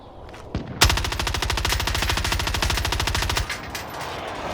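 Rapid automatic gunfire from a video game shooter, one sustained loud burst of evenly spaced shots lasting nearly three seconds, with a few faint clicks before and after.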